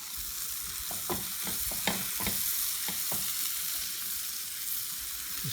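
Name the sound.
coated mushrooms frying and being flipped in a pan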